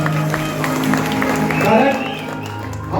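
Audience clapping at a Konkani shakti-tura performance, a steady broad wash of applause running throughout over a sustained musical drone, with faint voices mixed in.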